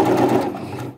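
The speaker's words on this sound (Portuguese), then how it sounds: "Então nós vamos para a máquina e já vamos costurar" A sewing machine stitches a dish towel in a short, close, loud mechanical whir that eases off at the end.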